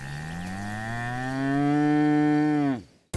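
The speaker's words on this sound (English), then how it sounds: "And indeed, we saw a lot of cows." A single cow in Texas ranch country gives one long, loud, close moo that rises and holds before dropping off abruptly, with no other sounds around it.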